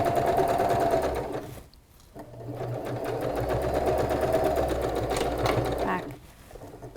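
A sewing machine stitches a pencil case, its loud, steady motor hum running continuously with a short pause in the middle before resuming.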